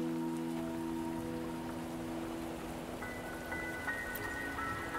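Steady rain patters in a Wuthering Waves game cutscene, a constant wash of drops heard alone under sustained tonal music.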